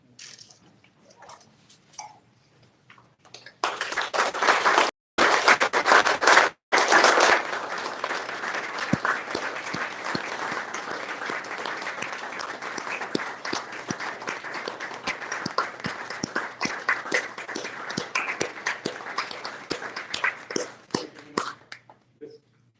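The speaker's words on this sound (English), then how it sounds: "I would request all of you to please stand up and applaud, clap your hands" An audience at a memorial celebration for Gopal Kamaraj stands and applauds, starting with scattered faint claps, then swelling into steady, fairly close clapping that goes on for over fifteen seconds before thinning out.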